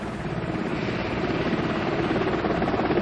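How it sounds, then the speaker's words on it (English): A military helicopter in Port-au-Prince, Haiti, in 1994, its steady rotor thump and engine roar loud and continuous throughout, with no voices. "perhaps General Shelton could be on that helicopter"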